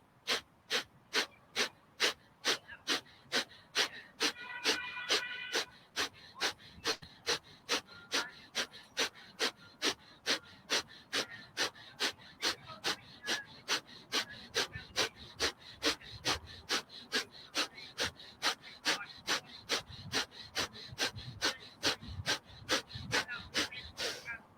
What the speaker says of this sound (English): start your breath of fire in and out through the nose